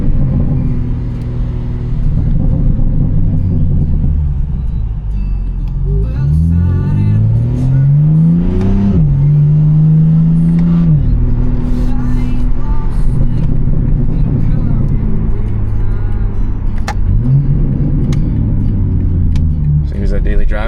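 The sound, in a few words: BMW G80 M3 being driven and accelerating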